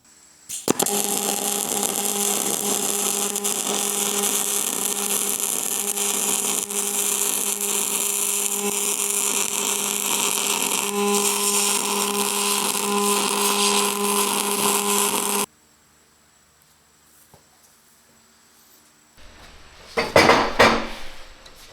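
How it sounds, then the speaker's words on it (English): Cap weld bead laid on a cast Dana 60 high steer bracket: a loud, steady buzzing arc runs unbroken for about fifteen seconds, then cuts to near silence before a brief noisy clatter near the end. "now we're going to come in and we'll do a nice cap weld"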